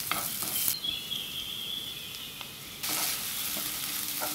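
Shrimp frying in a pan with onion and ginger, a steady close sizzle that drops to a quieter hiss partway through and then flares back up loudly, with faint stirring scrapes over it.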